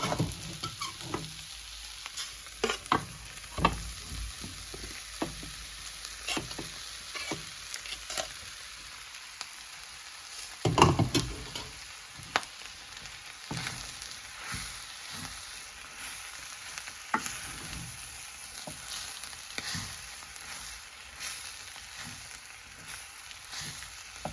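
Puttu being stirred into shark curry in a pan, with a steady soft scraping and sizzling of spoon through the thick mixture close up, punctuated by sharper clinks against the pan and no talking.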